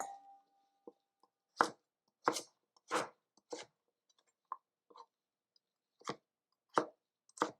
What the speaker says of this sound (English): I'm just continuing to cut these into fairly uniform pieces so that they will cook evenly.